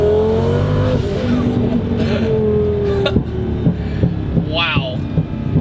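Twin-turbo Lamborghini Gallardo tuned to about 1200 horsepower, revving up to around 4,500 RPM inside the cabin with a loud rising drone, followed by sharp popping backfires and crackles.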